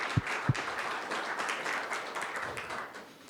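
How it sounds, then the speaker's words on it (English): An audience at an evening lecture on nuclear energy applauds the series sponsors, a moderate wash of clapping opening with a couple of sharp near claps and tapering off. "Let's please give them all a nice round of applause."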